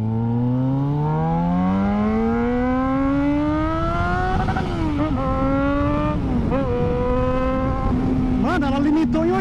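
Yamaha XJ6 motorcycle revved hard and accelerating, engine pitch climbing steeply through the gears with brief dips at each shift, loud and close for the whole stretch.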